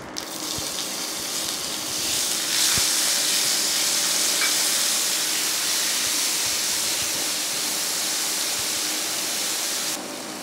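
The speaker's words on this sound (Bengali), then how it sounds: "এবার আমি পেঁয়াজটা দিয়ে দেবো।" Chopped onion sizzling in hot oil in a pan with dry red chilli and whole cumin, a steady loud hiss and crackle that continues throughout without any talk.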